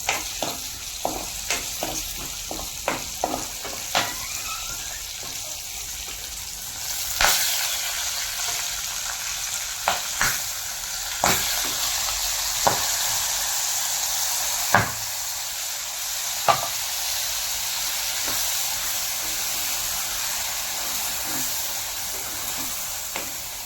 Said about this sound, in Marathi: तेलात चांगलं परतून घ्यायचं आहे